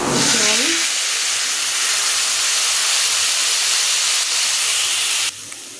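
Spice masala frying in a pan hisses with a strong, continuous sizzle close to the listener. A brief voice is heard at the start, and the sizzle drops abruptly near the end.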